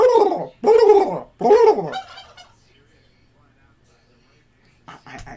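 A turkey gobbles three times in quick loud bursts, then quiet follows before a short bit of faint sound at the end.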